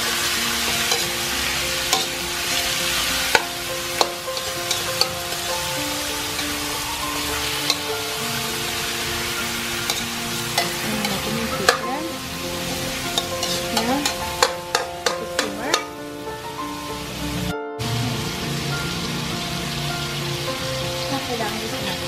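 Chicken being stirred and sautéed in a pan for pininyahang manok, a steady sizzle with repeated clinks and scrapes of a utensil against the pan, close and continuous, with faint talk at times.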